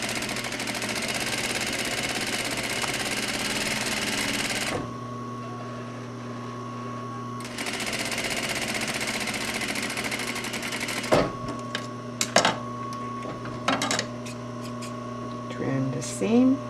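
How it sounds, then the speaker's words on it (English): A sewing machine stitches one-inch-wide bias strips being stretched under the needle, running in two steady bursts of mechanical hum with a pause between them, followed by scattered handling clicks near the end. "1 inch wide strips of bias to make the centers, and then sew it while you stretch it"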